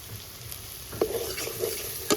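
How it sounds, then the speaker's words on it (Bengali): Onion, ginger and garlic sizzle in hot oil, a steady close crackle with a few sharper spits and bursts of stirring. "পেঁয়াজ আর আদা রসুন থেকে একদম তেল ছেড়ে দিয়েছে"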